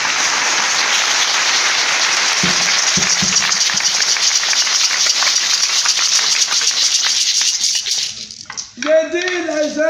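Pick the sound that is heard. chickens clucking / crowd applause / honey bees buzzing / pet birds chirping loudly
crowd applause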